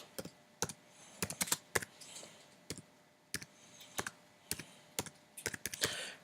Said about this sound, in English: When I say quick reply, that's the speed of my typing